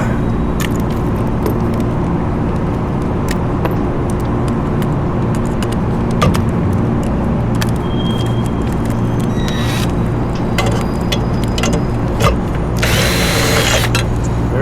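A power drill fitted with a Klein attachment drives a fastener on the motor of a Loren Cook 100 ACEM commercial exhaust fan, giving a steady, loud mechanical whir that runs throughout with slight surges.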